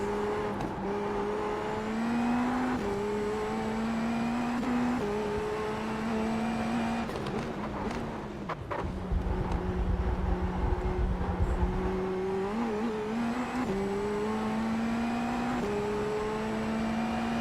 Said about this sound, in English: That's what this car sounds like.